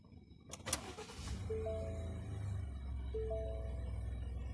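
A 2016 Ford F-150 XLT Sport cranks briefly and fires, settling into a low, steady idle that stays close and even for several seconds.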